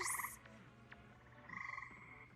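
Frogs croak in a calm outdoor setting, with a loud burst of trilling calls at the start and another rhythmic chorus midway, fairly faint overall against a steady low hum.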